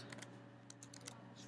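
Quick, light keystrokes on a computer keyboard: a few soft, close clicks in short bursts with a low hum underneath and no speech.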